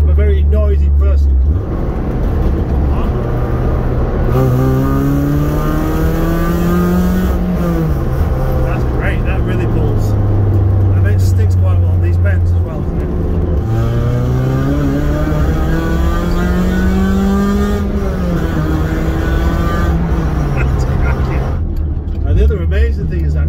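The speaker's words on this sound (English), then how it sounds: "the crackle from the exhaust there" A road-legal Ford Fiesta track car drones loudly from the cabin, its engine note climbing and falling through gear changes, with exhaust crackles between pulls and someone shouting over it.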